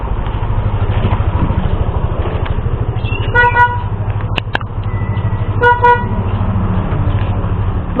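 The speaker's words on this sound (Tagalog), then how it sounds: "Ba't ganyan busina mo?" Car horn honking two short toots over a steady engine rumble, with a couple of brief louder tones between them.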